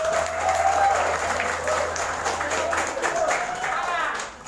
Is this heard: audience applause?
yes